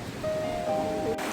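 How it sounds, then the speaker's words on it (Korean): A mountain valley stream running full of water on Chiaksan in Korea, a steady, fairly faint rushing wash of flowing water. "계곡에 물이 엄청 많네."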